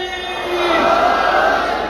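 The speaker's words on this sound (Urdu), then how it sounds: "نعرے کا جواب دیتے ہوئے نعرہ" Large gathering at a Khairpur religious assembly shouting a slogan in unison, a loud swelling roar of many voices that holds steady for a couple of seconds.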